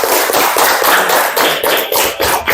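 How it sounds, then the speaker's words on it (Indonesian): Loud, close applause from a group in a classroom, with many hands clapping in fast, dense bursts that swell and dip for a few seconds. "tepuk tangan."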